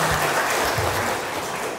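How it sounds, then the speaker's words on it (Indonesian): Brief, dense applause rises from a large gathering of thousands at Al-Mumtaz, a short burst of crowd clapping with a faint low voice underneath. "Kita boleh tepuk tangan?"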